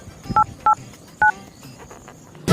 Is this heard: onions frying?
no